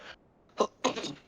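Two sharp, close sneezes come in quick succession after a faint breathy lead-in, with no talk over them.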